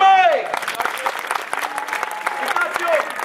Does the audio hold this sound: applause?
yes